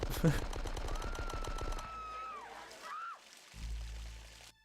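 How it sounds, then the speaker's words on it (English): Gunfire from the PC video game Die Hard: Nakatomi Plaza, a rapid burst of automatic shots at the start followed by electronic whooshing and tonal game effects, then a low rumble before cutting off. "I think there was a lot of gunfire"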